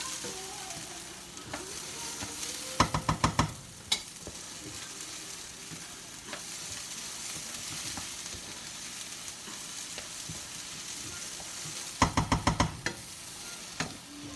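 Rice browns in a hot pan, producing a low steady frying hiss at close range, broken by two quick bursts of rapid clattering spoon strikes against the pan and a few isolated knocks.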